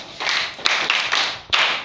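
A few children in a classroom clap for a classmate, short sharp hand claps in a loose, uneven rhythm, fairly close and brief.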